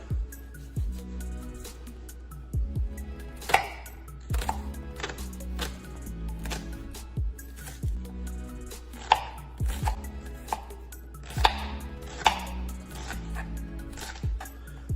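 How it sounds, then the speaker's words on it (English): A knife chops a shallot on a cutting board in steady, quick strokes, each cut a crisp close tap, while preparing Haitian pikliz. "We got a shallot. We're gonna cut that up."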